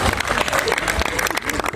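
An audience claps for two guests, Saskia and Fadi, at a live stage event, a short burst of dense applause with voices mixed in.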